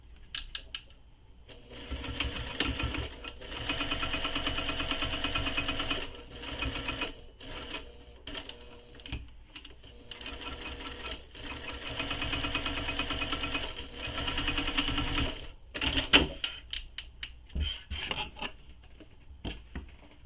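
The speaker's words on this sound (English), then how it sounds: "Now I'm going to top stitch this top edge" A sewing machine top-stitches along the edge of a tote bag in several runs of steady rapid whirring, separated by short pauses and a few quick bursts near the end.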